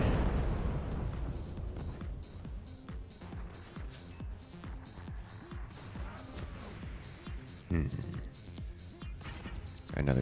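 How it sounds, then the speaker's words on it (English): Cannons fire in the physics-based strategy game Forts, a rapid string of low booming shots and impacts thudding one after another, with a couple of heavier bursts near the end, fairly quiet in the mix. "Another cannon."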